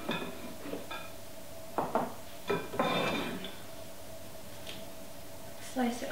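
A sharp serrated knife slices through a vegan sushi roll on a cutting board, giving a few soft, close cutting and tapping sounds with faint clinks, while someone talks quietly over a low steady background hum.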